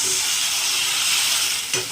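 Water poured into a hot onion tempering for upma sets off a loud, dense steaming sizzle that holds steady for about two seconds, close up, with a brief clunk near the end.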